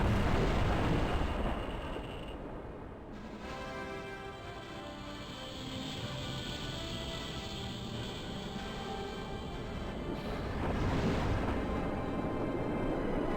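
A large enemy ship blows up in the PC space shooter Chaos Control, a loud sustained explosion rumble with crackling debris that swells, dips briefly, then surges again near the end, heard without voices.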